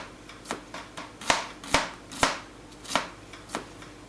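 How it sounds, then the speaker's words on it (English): A knife chops an onion on a board in a steady series of crisp, close thuds, about a beat every half second, with no talking over it. "We're going to start by chopping an onion."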